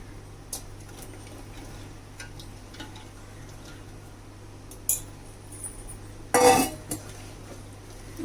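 Spoon mixing gobi 65 cauliflower batter in a bowl, with soft scattered taps and clinks close by, then a brief louder scraping clatter.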